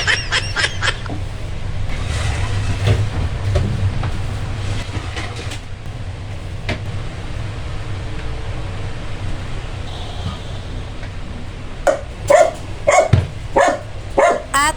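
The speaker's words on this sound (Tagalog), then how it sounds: "narinig nyo naman yung kahol ng aking alaga dahil may dumating na naman tayong parcel" Pet dog barking at a parcel delivery at home, sharp repeated barks in bursts at the start and again near the end over a steady low rumble of passing rail traffic.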